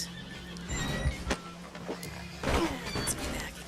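A horse neighs and whinnies amid hoofbeats and game sounds in Red Dead Redemption 2 Online, with a couple of louder bursts over a steady background.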